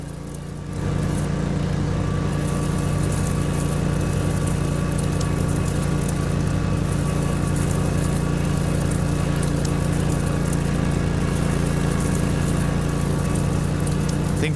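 A lawn mower engine in the game Lawn Care Simulator runs at a steady, loud drone after a quick start, with an even, fairly unvaried tone throughout.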